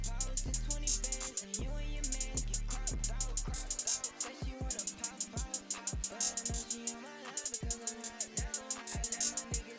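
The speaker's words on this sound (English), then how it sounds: "We then move over to the hi-hat pattern, and this is what it sounds like." Crisp hi-hats tick in fast rolling bursts in a trap beat, layered over booming 808 bass and melodic notes, with rhythmic repeated patterns that drop in and out.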